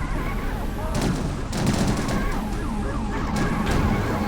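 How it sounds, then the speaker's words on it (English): Gunfire strikes a Lamborghini during a police chase in a video game, with a rapid burst of shots among wailing sirens, loud and continuous, while a voice talks over the action. "Shooting my Lamborghini."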